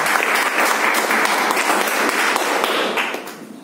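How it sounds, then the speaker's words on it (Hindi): A seated audience at a Hindi business-plan seminar gives a strong burst of applause, dense and even for about three seconds before tapering off at the end. "एक बार जोरदार ताली हो जाए"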